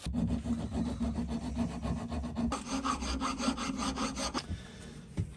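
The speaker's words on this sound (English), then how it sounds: "gotta get a wee bit of file work, clean these bits up here" A hand file rasps steadily over a metal part of a mini lathe cross slide in quick, even back-and-forth strokes, close and fairly quiet, with a brief pause near the end.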